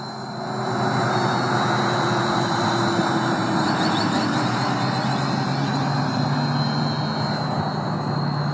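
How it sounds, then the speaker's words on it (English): A Hubsan Zino drone hovers in a slight breeze outdoors, giving a loud, steady, unbroken whirring hum with a constant high whine. "But the drone is sitting pretty good. It's moving a little bit, slight breeze."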